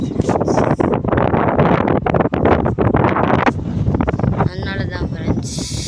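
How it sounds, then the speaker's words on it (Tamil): Strong wind gusting through many trees beside an old building, a loud continuous roar with buffeting against the microphone and brief rustling bursts. "காற்று செமையாக அடிக்குது ஃப்ரெண்ட்ஸ்"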